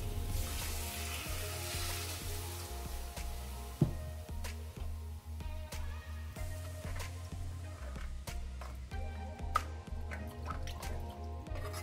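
Vegetables for a kurma in three glasses of water come to a boil, with a continuous bubbling hiss, soft drips and a few sharp clinks of utensils.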